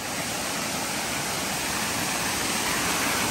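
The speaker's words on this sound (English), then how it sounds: "So coming down to the waterfall here, which is actually our water source as well." Steady broadband roar of a waterfall used as a water source, constant and fairly close, with no voices over it.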